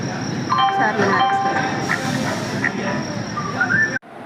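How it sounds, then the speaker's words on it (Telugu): Passenger train at a station as a family boards for a trip to Hyderabad, with a steady rumble and station bustle running throughout and people talking over it. "ఇదే ట్రైన్"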